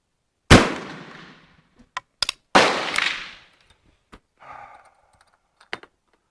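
Danish 11.7 caliber Rolling Block rifle fired twice, each a sharp loud crack with a decaying echo, separated by about two seconds, with scattered small clicks and a faint breath between shots.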